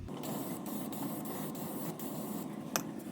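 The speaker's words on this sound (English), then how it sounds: "So we're just going to spray the penetrant on right now" Penetrant is sprayed onto a Honda CBR600F4i motorcycle engine crankcase during a teardown, a steady close hiss running continuously with a few brief breaks and faint clicks.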